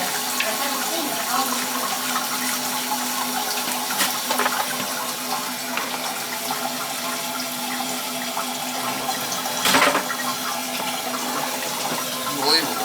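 An old Kohler toilet flushes and refills, a steady rushing and hissing of water lasting the whole time, with a few brief clunks along the way.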